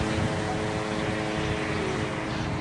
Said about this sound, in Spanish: Pueden escuchar los motores de los aviones sin pilotos